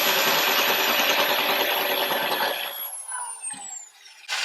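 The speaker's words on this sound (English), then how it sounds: "go medium to a fast speed to sort of help gouge the saw around the spot weld" Saw cutting around a spot weld on a car seat rail at medium to fast speed, a harsh grinding rasp with a high whine that fades and falls away as the blade slips off, then a brief burst of cutting resumes.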